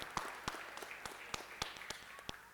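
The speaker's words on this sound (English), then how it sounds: "Y'all clap it up for my son." Sparse audience clapping at a school Day of Non-violence and Peace assembly, a handful of separate claps spread across the moment rather than a full ovation, faint and somewhat distant.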